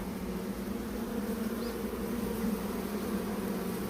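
Honeybees buzz at a beehive during a hive inspection, a dense, continuous droning hum up close with no other sounds over it.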